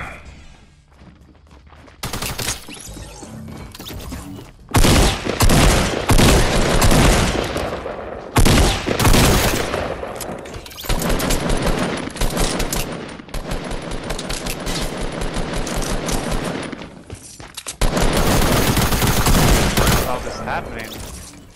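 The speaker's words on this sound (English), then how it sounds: "Hear a bunch of firing. It wouldn't stop." Continuous gunfire in Fortnite, dense sustained automatic bursts that go on with only brief breaks, loud and near, with speech faintly mixed in.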